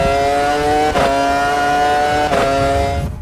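Michael Schumacher's 2001 Ferrari Formula 1 car with its V10 engine, driven in the Automobilista 2 racing sim, screams at high revs, loud and close, with two quick upshifts breaking the sustained wail.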